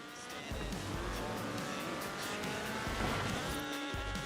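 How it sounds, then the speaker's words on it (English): A fuel-injected 1790cc Cosworth BDE engine in a purpose-built rally car in Forza Horizon 4 snarls loudly at close range, its revs rising and falling steadily, with tyre squeal mixed into the run. "a powerful fuel-injected 1790cc Cosworth BDE engine"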